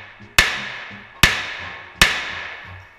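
.22 rimfire rifle shots at a shooting range: three sharp, loud cracks spaced evenly about a second apart, each decaying quickly, with no voices between them.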